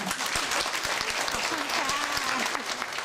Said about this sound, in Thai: ปรบมือหน่อยค่ะ